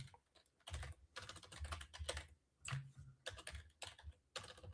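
Someone types on a computer keyboard in bursts of soft, close clicks separated by short pauses, quiet and with no voices.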